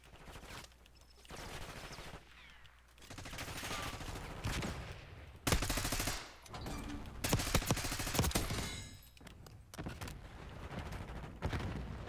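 Gunfire in Black Ops 6 multiplayer, bursts of rapid shots and single cracks in irregular clusters, loud and close, separated by quieter gaps with no talking.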